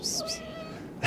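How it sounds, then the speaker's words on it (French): A street cat in Istanbul gives a short, close meow, a single drawn-out cry lasting under a second, followed by a brief burst of noise at the end. "je tombe que sur des chats partout dans toutes les rues"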